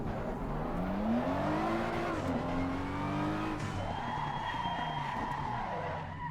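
Race car tires skid and squeal in Assetto Corsa Competizione, a loud sustained screech with rising and falling pitch over a droning engine, continuous for several seconds without talk.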